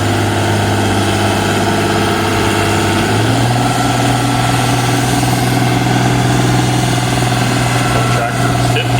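A 1963 Oliver 1800 tractor with pressed steel rear wheels, its old inline six-cylinder engine running at a steady, loud idle at a county fair tractor pull, its low rumble shifting pitch slightly partway through.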